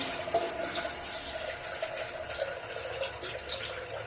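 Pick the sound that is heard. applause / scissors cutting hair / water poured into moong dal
water poured into moong dal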